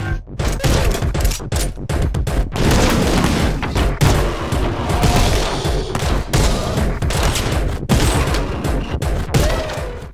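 Dense, continuous gunfire and heavy booms from the first-person shooter Anger Foot, with kicks and impacts mixed in as rapid, loud bursts that barely let up for the whole stretch.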